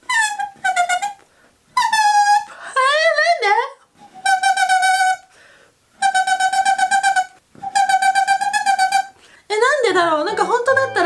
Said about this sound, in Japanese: それでは早速 10m のホースを吹いてみたいと思います